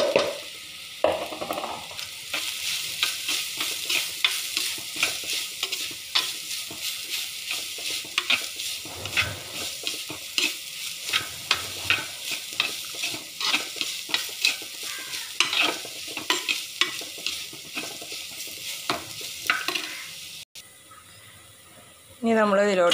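Stinging nettle leaves and crushed coconut stir-fried in a pan for Kerala thoran: a continuous sizzle with repeated scraping and stirring strokes, close and busy, ending abruptly.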